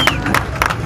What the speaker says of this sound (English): I think she needs a round of applause from that.